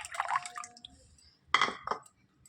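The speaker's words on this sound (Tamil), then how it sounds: "தக்காளி கரைசலோட புளி தண்ணியை சேர்த்துக்கிறேன்" Tamarind water poured into a pot of tomato mixture for rasam in two short splashy bursts, trickling and gurgling up close, with quiet gaps between.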